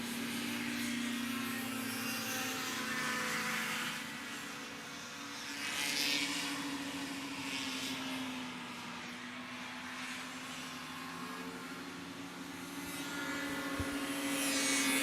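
A racing hovercraft goes past at a British hovercraft race meeting, its engine and thrust fan a steady drone that swells and fades as the craft passes. Other engine noise fills the background throughout and no one speaks.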